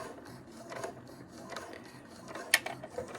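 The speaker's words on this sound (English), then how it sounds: "now just start sewing straight away" A sewing machine stitching fabric runs faintly and steadily in a quiet room, with a sharp click near the end.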